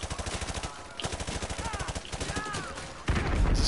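Rapid automatic gunfire in Call of Duty: Modern Warfare 2 Remastered, a steady stream of loud, close shots rattling without pause, with a heavy burst near the end.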